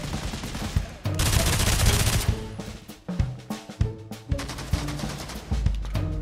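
Gunfire rings out in a VR cowboy video game, a sustained rapid burst followed by a string of separate loud shots spaced irregularly, sharp and close.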